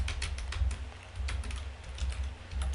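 Keys clatter on a computer keyboard in quick, uneven bursts of sharp clicks over a low background hum, close and moderately quiet, with no talking.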